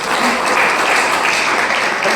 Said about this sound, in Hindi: तो इसके लिए जोरदार तालियां।